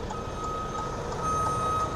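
A trailer truck backs up blind-side in a yard, its backup alarm beeping steadily and loudly over a constant rumble of engine and ambient noise, with no talk.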